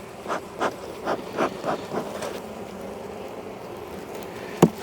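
Honey bees hum around a hive in January, a steady low drone with a series of soft, rhythmic swells early on and one sharp brief knock near the end.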